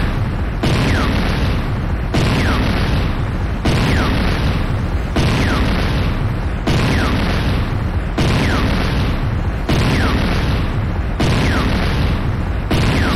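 A Tiberian refinery blowing up in the game Renegade: a heavy, continuous barrage of loud booming blasts repeating in a steady rhythm of roughly one every one and a half seconds, dense rumbling detonations throughout with no voices.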